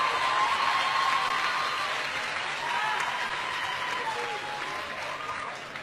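Audience applause at a valedictorian graduation speech, a sustained wash of clapping from a crowd that gradually tapers, with a few faint voices mixed in.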